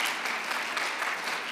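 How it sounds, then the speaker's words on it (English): Applause from a synagogue congregation at a family Shabbat service honoring a 5th grade teacher, a steady, dense wash of many hands clapping at moderate distance, fairly soft and unbroken with no voices over it. "he deserves that applause"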